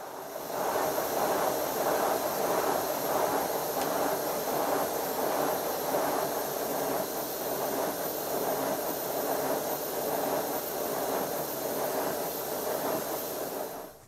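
A Simplex prairie tank steam model locomotive runs with its valve gear in close-up, giving a continuous loud hiss with a rapid rhythmic chuffing pulse that holds steady throughout.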